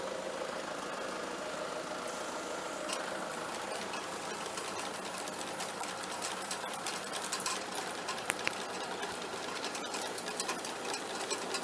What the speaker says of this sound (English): We're gonna start it off nice and slow all the way down at an idle.